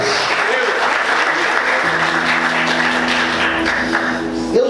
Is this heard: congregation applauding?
yes